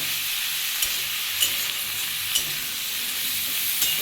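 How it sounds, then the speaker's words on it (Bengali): Large chillies rubbed with salt frying in hot oil for a Bihari-style pickle, a dense even sizzle with a few soft knocks of a stirring spoon, close and alone. "আমি এই নুন দিয়ে মাখিয়ে রাখা লঙ্কাটা দিয়ে দিয়েছি আমরা এটা একটু ভেজে নেব"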